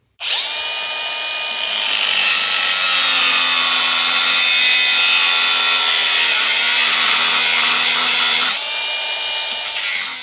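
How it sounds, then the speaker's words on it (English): A power tool cuts through a steel plate that will become a turbo flange for a diesel rally truck conversion. A loud, steady whine holds for about eight seconds and then winds down, with no talk over it. "So I got the hole cut out for my flange."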